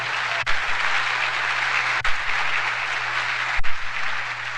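A church congregation applauds loudly and steadily, a dense wash of clapping that carries on without a break for about five seconds.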